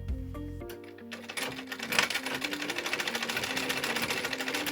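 A sewing machine stitching belts, starting after a few clunks and then running in a fast, steady, rhythmic mechanical whir, close and continuous, with no talking.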